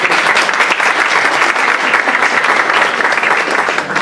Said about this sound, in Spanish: Un aplauso para ustedes nuevamente